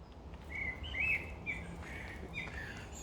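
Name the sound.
birds calling during an evening walk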